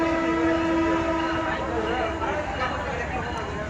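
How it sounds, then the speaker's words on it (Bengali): The Chattala Express, hauled by locomotive 3002, rolls into Comilla railway station in Bangladesh with a loud, sustained horn blast over the heavy rumble of the moving train, heard close by. "চট্টগ্রাম অভিমুখী 802 চট্টলা এক্সপ্রেস 3002 লোকোমোটিভ নিয়ে কুমিল্লা রেলওয়ে স্টেশন"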